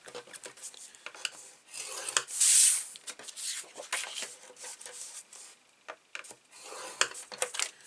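Paper photo mat pieces for a mini album are scored on a trimmer in a series of close scraping and rubbing strokes, with one louder drawn-out swipe partway through and scattered light taps and clicks, no voice.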